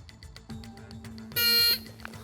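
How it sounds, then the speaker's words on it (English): An electronic game show buzzer sounds once, a loud, steady tone lasting about a third of a second, with voices and background noise around it. "I don't know why I pressed the buzzer"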